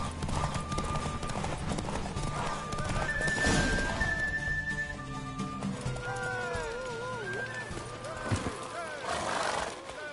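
Horse hooves clatter in a fast rhythm during a ride in The Witcher, with a whinny, close and loud under talking voices.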